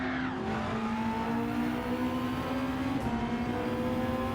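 A BMW race car and rival cars in Gran Turismo 7 hold a steady, sustained engine drone with a rising then easing pitch, close and continuous over the whole stretch.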